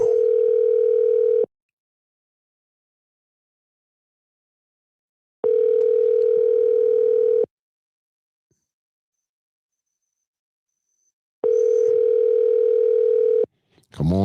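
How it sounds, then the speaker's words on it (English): Telephone ringback tone on an outgoing call waiting to be answered, steady tone bursts about two seconds long separated by roughly four-second silences, repeating three times, loud and clear with a brief rustle at the end. "Let me see if he picks up the phone."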